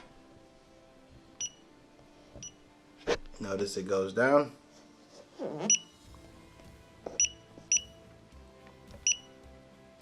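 A DSC NEO HS2TCHP LCD touch screen keypad buzzer gives short, thin beeps at changing volume, spaced irregularly and close by, with a person talking between them.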